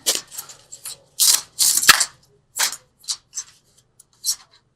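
A deck of angel cards is shuffled by hand at close range in short, irregular bursts of papery riffling and sliding, with brief quiet gaps between strokes.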